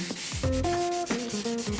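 Close, steady rubbing strokes of sandpaper worked over an oxidized plastic car headlight, a dry scratchy rasp that repeats in short passes.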